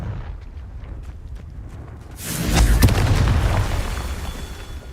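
A Confringo fire spell in Hogwarts Legacy bursts midway into a loud booming explosion that rolls and crackles for a couple of seconds before slowly fading.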